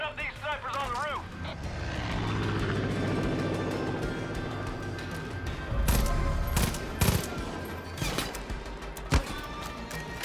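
Rifle fire aimed at snipers on a rooftop in Far Cry 5, with several sharp shots cracking out in the second half over vehicle and engine noise, while people talk.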